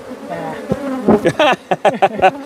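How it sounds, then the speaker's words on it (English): Newly emerging honeybees hatching from comb cells make a loud, close buzzing hum that swells and pulses in short uneven bursts. "Those are all bees coming out."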